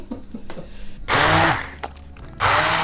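A hand blender whirs through hot, freshly cooked toor dal for Gujarati dal in two loud, steady bursts, with quieter clatter and handling in between.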